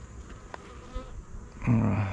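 Honeybees buzzing at an open horizontal hive during an inspection, a steady low drone of many wings close by, with a louder bee passing near the end.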